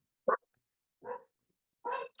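A pet dog, a female puppy, gives three short barks or yips spaced about a second apart, close by and moderately loud against a quiet room, with no one talking.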